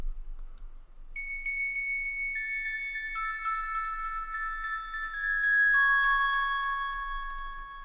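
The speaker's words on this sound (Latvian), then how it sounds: "nākamais presets tenor sax," A tenor saxophone synth preset plays a slow descending melody of sustained tones with reverb and delay trails, bright and clear over near silence.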